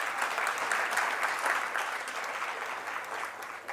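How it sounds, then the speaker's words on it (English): An audience applauds at a public lecture, the dense, steady clapping of many hands filling the room from start to finish with no break. "So clap for Namibia and Botswana."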